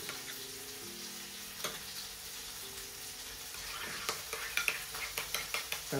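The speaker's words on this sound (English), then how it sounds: "a nice squeeze of half a lemon. Mix everything together." Burger mix with a squeeze of lemon juice being stirred together in a bowl, with soft wet mixing and a run of light utensil clicks and taps that grows busier toward the end.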